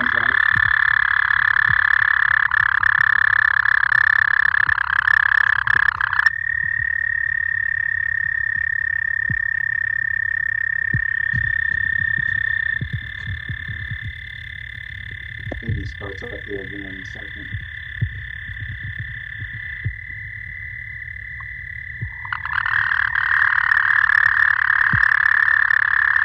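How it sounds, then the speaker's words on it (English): Toads give long, steady high trills in overlapping bursts, several callers sustaining continuous buzzy notes near and far, with soft outdoor background noise and no talking. "This is what a trilling toad sounds like."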